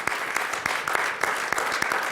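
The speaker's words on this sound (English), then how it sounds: "Let's give them one more round of applause." An audience at a school district governing board meeting breaks into applause, a steady crowd clapping with a few sharp nearby claps popping out at a quick, regular rhythm.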